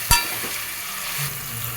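Potato and carrot pieces stirred in a pan of sambar vegetables, a short scraping knock at the start followed by a steady soft sizzle close by, with no talk.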